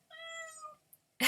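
A cat lets out one clear, drawn-out meow up close, followed by a brief click and then a sudden burst of noise.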